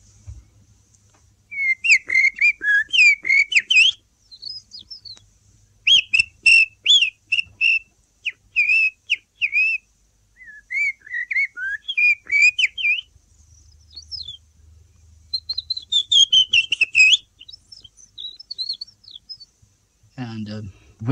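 A man whistles an imitation of a blackbird's song, a series of fluting, warbling phrases in bursts with short pauses between them, close and clear, with a low rumble near the end.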